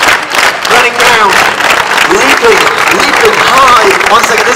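Street crowd in Covent Garden clapping steadily and loudly for a chainsaw comedian, a dense wash of hands with voices calling out on top.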